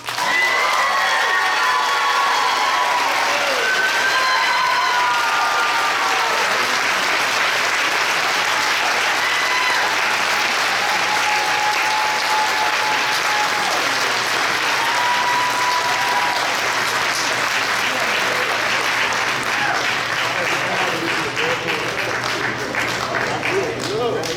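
Sustained audience applause fills a school board meeting hall, a dense steady wash of clapping for honored students with scattered cheers and voices mixed in throughout.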